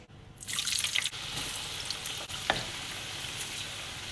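Chips frying in oil at a lower temperature for fish and chips, a steady bubbling sizzle with a few louder crackles and pops, heard alone without talk.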